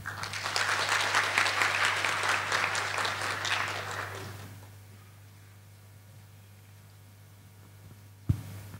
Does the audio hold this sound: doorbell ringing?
no